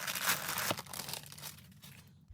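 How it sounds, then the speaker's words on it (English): Crinkly plastic packaging rustles and crackles as it is pulled out of a box, loud and close at first, then softer scattered crinkles fading toward quiet. "I'm going to take this packaging out."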